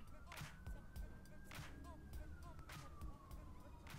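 Sirens of passing ambulances and fire trucks wail in the background, a gliding tone rising and falling under rhythmic low thumps and bursts of outdoor noise, fairly distant throughout.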